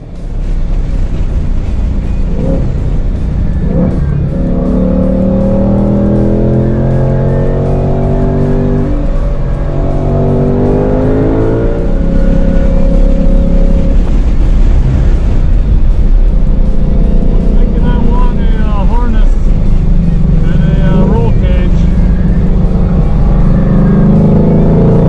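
A 2020 Ford Shelby GT500 accelerates hard on a race track on a cold day. Its loud engine rises through the gears in repeated revving sweeps, with sustained high-speed road and wind roar in between.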